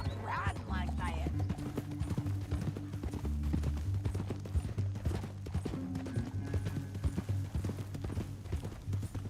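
Horse hooves clip-clop steadily and quickly over the ground in Red Dead Redemption 2, ongoing throughout, with a voice calling out briefly over the riding.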